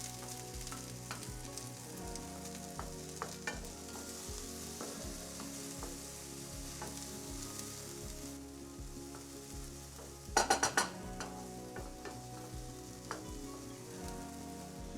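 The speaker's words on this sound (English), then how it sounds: "fry the shallots in a bit of oil. I'm using olive oil in a non-stick pan on low to medium heat" Shallots frying in olive oil in a non-stick pan over low to medium heat, a steady soft sizzle with small crackles throughout and a brief louder burst of stirring or spattering partway through.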